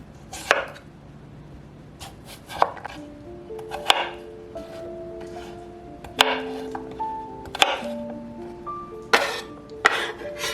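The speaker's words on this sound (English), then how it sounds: "I'm putting in cucumber because it's milder, and I grew this one. Chop it into bite-sized pieces." Home-grown cucumber is chopped into bite-sized pieces on a cutting board, with a series of sharp, irregularly spaced knife knocks, close and clear, accompanied by occasional light clinks and faint background tones.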